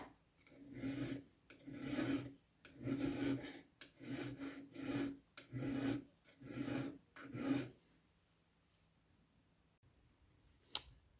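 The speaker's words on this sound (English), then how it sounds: "what I'm going to do now is just quickly file the excess solder off." A hand file rasped over excess solder on a jewellery bezel in seven rhythmic, even strokes about a second apart, close and clear, then quiet with one faint click.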